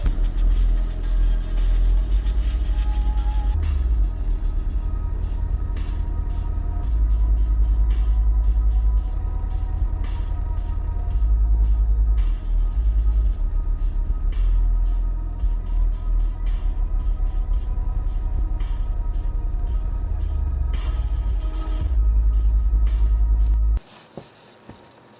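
A Scar Audio SDR8 subwoofer in a Scar Audio SK box, wired at 2 ohms and powered by a Boss Audio AR2500M amplifier, plays a 42 Hz test tone: a loud, steady, deep drone with rattling that lasts about 24 seconds, then cuts off.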